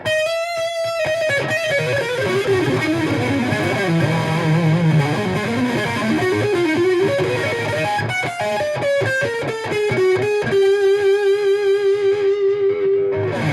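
An electric guitar plays through an EVH 5150 amp's distortion channel with boost on, giving loud, saturated, sustained notes and chords with sharp picked attacks, some ringing long and steady, alone with no voices.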